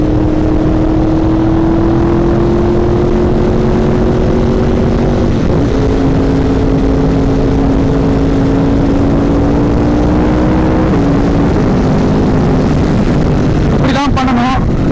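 Yamaha R1 sport motorcycle engine droning at steady revs, the pitch holding and stepping as the throttle shifts, with a sharp rev blip near the end; wind rush throughout.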